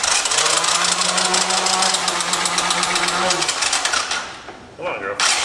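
An abandoned three-wheeler ATV engine cranks with a rapid mechanical chatter, loud and close, before stopping and giving a brief sputter at the end.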